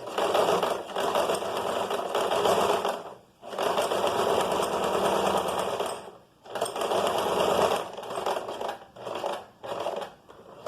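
Sewing machine stitching fabric in bursts of steady mechanical whirring, stopping briefly between runs as the fabric is turned at a corner during a garment sewing lesson.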